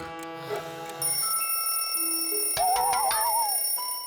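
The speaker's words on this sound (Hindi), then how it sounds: "असली का फोन।" A cartoon telephone rings with a bright, warbling electronic trill over a light musical background, fairly soft and steady.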